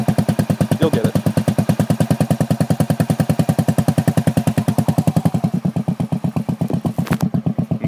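A motorcycle engine runs steadily after starting, its fast, even exhaust putter loud and close throughout, then it revs briefly near the end.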